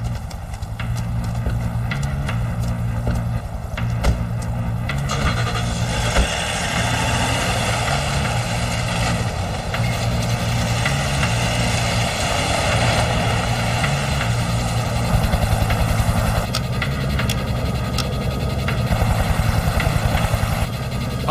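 Helicopter about to take off: a loud, steady mechanical whine and rapid rotor chop throbbing continuously for about twenty seconds, close and dominant, with no speech.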